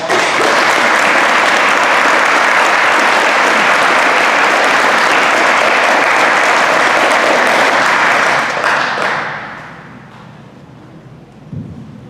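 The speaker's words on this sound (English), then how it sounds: "if you'll give them a round of applause" A crowd at a high school FFA awards banquet gives the food service staff a loud, sustained round of applause that holds steady and then tapers off, leaving a quiet room with a brief soft knock near the end.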